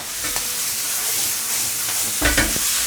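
Thick garlic sprout stems go into a hot wok and are stir-fried with a steady sizzle and hiss, marked by a few sharp scraping clatters of the spatula against the pan.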